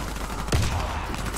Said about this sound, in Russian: Кидаю гранату! Граната!